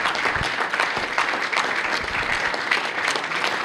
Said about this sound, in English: can we get a round of applause for all our candidates?